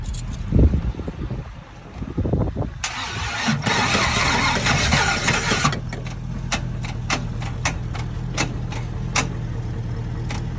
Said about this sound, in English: Just crank it in